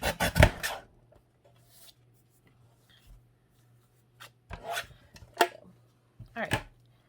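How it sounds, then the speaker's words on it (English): Paper card trimmed along its edge during card making, with short, sharp cutting strokes in two clusters separated by a quiet pause, close and clear. "I see my edge doesn't quite line up on this card, so I am going to trim it just a little bit"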